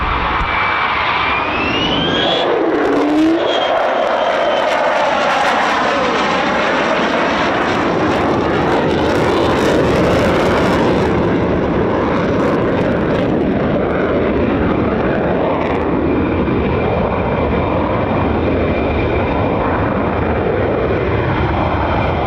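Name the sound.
F-15 fighter jets flying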